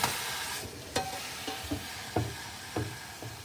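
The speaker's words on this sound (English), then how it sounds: "Now, I got those beans ready. I'm sizzling them up." Beans sizzle steadily in a hot pan, broken by several sharp scrapes and clinks of stirring at uneven intervals.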